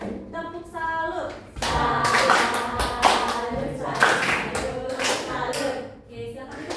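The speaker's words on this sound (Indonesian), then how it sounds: "Ibu pimpin ya, tepuk salut" A primary school class, led by the teacher, doing the 'tepuk salut' clapping chant: bursts of rhythmic group claps mixed with children's voices chanting along, close and lively.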